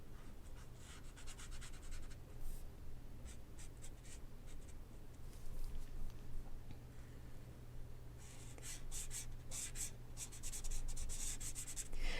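Ohuhu pastel brush marker strokes on watercolor paper, a soft, close scratchy rubbing that comes in short bursts over a quiet low hum, growing denser and busier toward the end.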